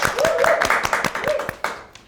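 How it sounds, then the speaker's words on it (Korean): Audience clapping at a parenting talk event, a short burst of close, distinct hand claps from a small group with a voice briefly heard alongside. "박수!"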